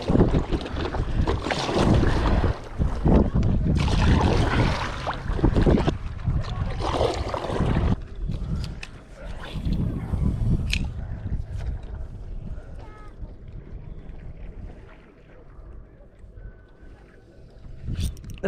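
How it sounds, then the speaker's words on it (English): Strong wind sweeping across a lake while someone paddles an inflatable stand-up paddleboard: heavy, roaring gusts buffet the microphone for several seconds, then ease into lighter rushing with faint splashes and knocks. "Wind picked up out of nowhere, and I'm in an inflatable stand-up paddleboard."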